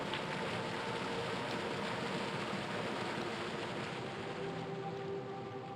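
Waterfall in the video game Dread Delusion, a steady, even rush of falling water that holds at a constant moderate level throughout with no voices.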